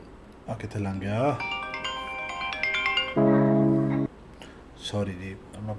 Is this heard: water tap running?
no